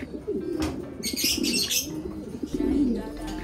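White pigeons kept as racing birds coo in low, rolling throaty phrases up close, interrupted by a few quick bursts of flapping wings.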